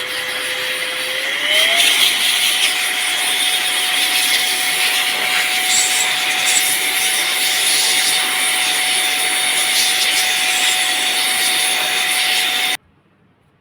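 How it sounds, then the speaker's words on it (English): An air blower dries freshly cleaned switch contacts with a steady, loud whooshing hiss and a whining tone that rises early, then holds until it cuts off abruptly. "finally the air blower dries them out"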